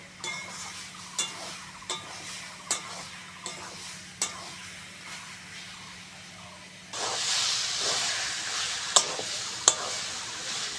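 Greens stirred in a pan while the water bubbles up, with regular scraping stirs at a steady pace over a soft hiss, then a louder, broader sizzle takes over with a couple of sharp clinks.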